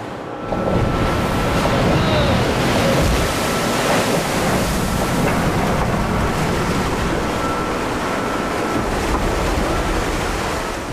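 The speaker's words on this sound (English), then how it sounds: "Waves crashing over the stern can easily sweep a crew member into the icy, churning sea" Gale-driven stormy sea crashes over the open stern ramp of a fishing trawler in icy Antarctic waters, a loud, continuous roar of churning water and wind with no let-up and no voices.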